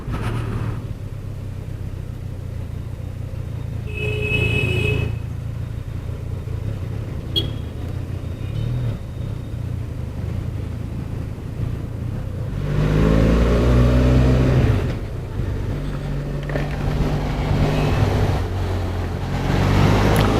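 Benelli TRK 502 motorcycle on a test ride, a steady buzzing engine drone under heavy wind rumble, with a louder surge of engine and wind around the middle and brief rattles.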